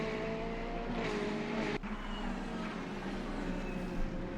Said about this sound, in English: You gotta love the nice buzzing sound of the Corvette's exhaust.